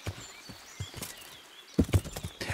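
Horse hooves clip-clop in Kingdom Come: Deliverance, a steady run of thudding footfalls on a dirt path, fairly close, with a couple of heavier, louder impacts near the end.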